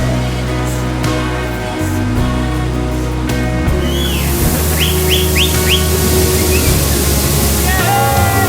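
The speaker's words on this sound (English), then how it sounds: "we have arrived at the waterfall number 7, and it's 7 meters high" A seven-metre waterfall pours with a broad, steady roar that swells in about halfway through, overtaking an earlier tonal hum, while birds chirp and whistle over the rushing water.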